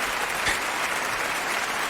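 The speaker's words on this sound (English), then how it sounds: "Double up on those claps." A crowd claps steadily throughout, dense and sustained, with no voices over it.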